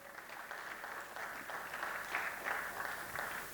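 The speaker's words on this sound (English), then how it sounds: "I think it deserves a round of applause." An audience at an engineering academy's annual lecture and fellows' induction breaks into sustained applause, a dense, even wash of clapping with no voices over it.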